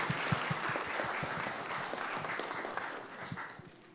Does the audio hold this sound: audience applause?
yes